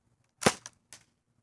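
A Daisy 74 CO2-powered BB gun fires a single sharp, close shot, followed by a faint short echo or rattle.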